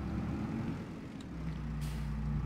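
A small tractor engine in Farming Simulator 22 drones steadily at low pitch, its rumble shifting slightly partway through before settling into an even, continuous hum.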